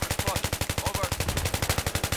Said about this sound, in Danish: Fuck, jeg elsker sådan en light machine gun som den her.